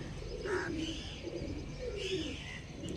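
Kalanka pigeons coo softly in a loft, several low rolling calls in slow succession with light chirps between them, close but not loud.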